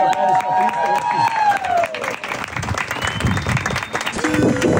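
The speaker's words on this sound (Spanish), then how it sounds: "Otro fuerte aplauso a Cristo." Loud applause from a wedding crowd, dense clapping with some cheering, while a voice talks over it and a tonal sound fades early.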